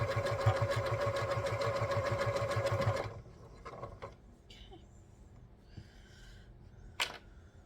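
A sewing machine stitches fabric for a Bargello quilt block top in a fast, even mechanical rattle for about three seconds, then stops, leaving faint handling noises.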